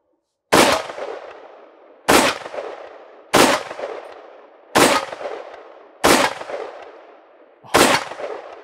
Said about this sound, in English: We're going to shoot it until it falls out of the plate carrier